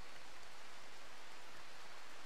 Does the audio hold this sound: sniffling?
no